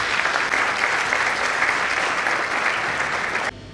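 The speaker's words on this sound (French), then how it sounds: "Nous allons vous prier d'applaudir pour eux, s'il vous plaît." Steady applause from the audience at a general meeting, dense and sustained, cutting off abruptly near the end.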